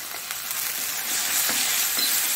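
Tomatoes fry for an egg masala gravy, giving a steady bright sizzle in the pan with soft stirring scrapes and no talk.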